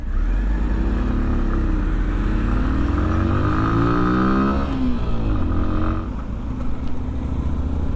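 A 2020 Sinnis Terrain 125 motorcycle rides along a road, its small engine droning steadily and loudly with a shifting, rising-and-falling pitch and constant wind rush throughout.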